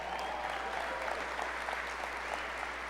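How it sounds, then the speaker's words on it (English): A conference audience applauds, a dense steady wash of many hands clapping at moderate distance throughout, fairly soft and even with no talking. "All right, you can clap. Yep, you can clap."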